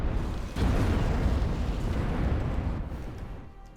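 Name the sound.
bomber aircraft in video game Ashes of the Singularity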